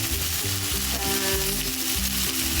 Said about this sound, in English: now we have to fry till the mangoes are fully cooked